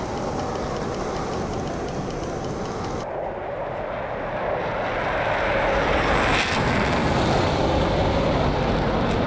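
Steady broadband roar of a Dassault Mirage F1 jet in flight in the DCS combat flight simulator, a continuous loud engine and wind rush that swells slightly louder in the second half, with no talking.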